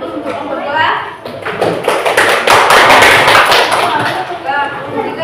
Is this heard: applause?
yes